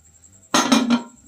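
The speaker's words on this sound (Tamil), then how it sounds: "மூடி போட்டு" A lid is set onto a pressure cooker pot holding mutton kulambu, giving one close metallic clank with a short rattling ring that dies away within half a second.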